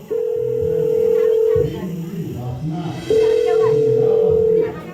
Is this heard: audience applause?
no